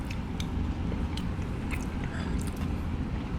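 Close, steady chewing and soft biting of cheesy jalapeno grits made with cheddar, moist mouth sounds running continuously over a low background rumble with no talk.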